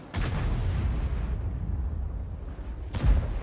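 An artillery shell from an M53 self-propelled gun in World of Tanks firing and bursting, a heavy booming blast that rumbles on, followed by a second sharp boom near the end.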